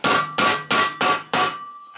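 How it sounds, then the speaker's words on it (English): A hammer bangs on metal in a blacksmith-style workshop while a part for a Suzuki GN250 motorcycle electric box is shaped, five loud close ringing strikes in a steady rhythm, no voices. "there is no such a thing as a blacksmith shop without bang of a hammer"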